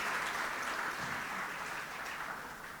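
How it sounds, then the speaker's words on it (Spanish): A crowd at an ethics conference claps steadily, a dense wash of applause that fades slightly toward the end. "Nuevamente un fuerte aplauso"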